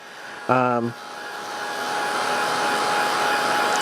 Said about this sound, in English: I'm just using the Ranger Heat tool to dry this.